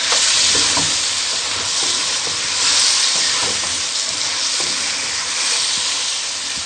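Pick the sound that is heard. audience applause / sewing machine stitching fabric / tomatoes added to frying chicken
tomatoes added to frying chicken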